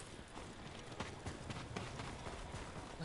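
Galloping horse hooves from Ghost of Tsushima pound in a quick, busy clatter under dense game ambience, fairly faint and continuous for a few seconds with no talk.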